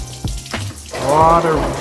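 Water spills and splashes from a BMW E39 radiator during cooling system work, a short gush that swells in the second half with brief voice sounds over it.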